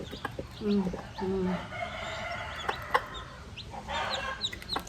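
A Rhode Island Red rooster gives short, throaty clucks, calling its hens over to peck at food, against a faint farmyard background with soft bird noises.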